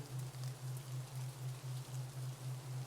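Meditation rain falls as a soft, steady hiss, with a low droning tone pulsing evenly beneath it throughout.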